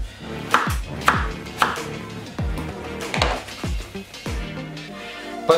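A knife chops potatoes on a board in a home kitchen, making sharp, close chopping knocks at an irregular pace, about ten cuts with short pauses between them and no speech.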